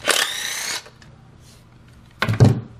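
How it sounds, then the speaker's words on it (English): An impact wrench removing 7mm coil screws on a Ford 4.6L or 5.4L 3V engine, a short close burst, a quiet gap, then a second brief rattling burst. "Impact and make short work of those."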